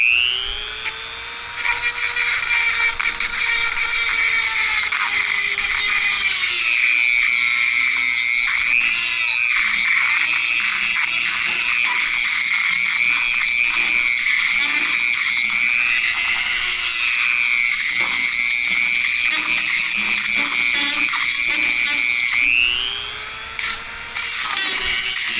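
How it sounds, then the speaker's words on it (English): A Dremel rotary tool with a grinding stone whines at high pitch while deburring metal on an e-bike trailer, its speed dipping and rising as it bites, loud and close and alone for about twenty seconds. "I'm going to run this in there and try to deburr it real quick."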